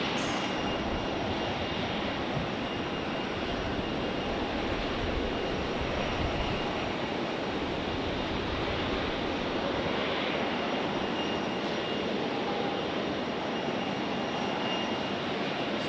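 A Lufthansa airliner at Raleigh-Durham International Airport produces a continuous, strong jet engine roar, a steady wash of broadband noise holding constant loudness from start to finish.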